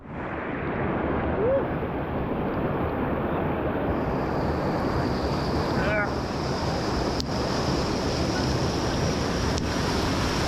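Water pours continuously from a waterfall into a river at a jungle campsite, a loud, steady rushing roar close by, with wind buffeting the microphone and a couple of faint chirps above the flow.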